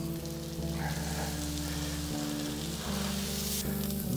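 Cheesesteak beef, cheese and bread sizzle on a flat griddle while steaming, a steady close frying hiss with a low hum underneath and a brief clatter, no voices.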